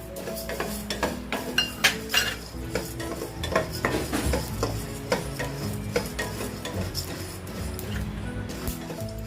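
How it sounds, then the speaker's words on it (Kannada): Urad dal, coriander seeds, cumin and black pepper are dry-roasted in a pan, with repeated scraping and stirring of a spoon against metal over a faint sizzle, close and steady. "ಸ್ವಲ್ಪ ಕೆಂಪಾಗೋ ತನಕ ಹುರ್ಕೊಂಡ್ರೆ ಸಾಕಿದನ್ನ"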